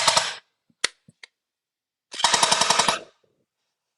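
LeHui AUG gel ball blaster firing, first a single sharp shot and a couple of faint clicks, then a quick three-round burst of rapid snapping pops, close and loud against silence.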